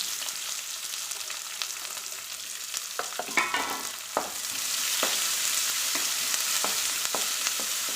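Onions frying in hot oil after mustard seeds and curry leaves for a bottle gourd kuzhambu, making a loud steady sizzle with stirring scrapes that builds into a denser hiss, and no one talking.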